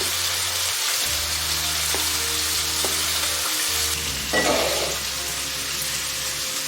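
Carrots and other vegetables sizzle and crackle steadily in a hot pan for chicken noodle soup, close and continuous with a low hum beneath and no talking.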